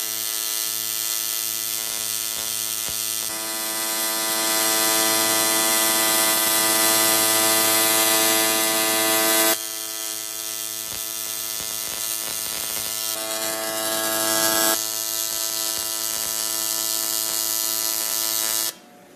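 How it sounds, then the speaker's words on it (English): TIG welding buildup on a 3/4 inch plate inside a purge box with a fresh tungsten, giving a steady loud electric buzz and hum with a few shifts in pitch, continuous throughout and ending abruptly. "Looks like he's ready to weld."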